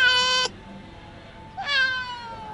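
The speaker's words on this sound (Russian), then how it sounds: "Да ты говорящий кот" A large cat in Bangkok meows twice, close and clear, with a short pause between the two calls and quiet room ambience around them.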